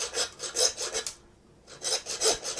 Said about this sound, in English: So for a Cote the BEOUF, I'm going to just saw